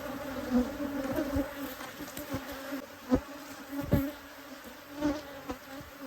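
Honey bees buzz around an open, fast-growing hive during a spring inspection in the Texas Hill Country. The steady, close drone is broken by occasional soft knocks and thumps from the frames, with no talk.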